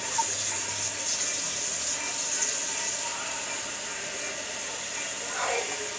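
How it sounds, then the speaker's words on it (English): Tap water runs steadily from a faucet into a kitchen sink beside a stainless steel pot, a continuous close hiss and gush at even loudness throughout. "The water pressure here is not so hard."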